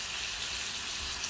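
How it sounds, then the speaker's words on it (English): Chicken with onion, carrot and mushroom frying in butter, a steady close hiss and sizzle filling the whole moment with no pauses. "I use butter to fry it."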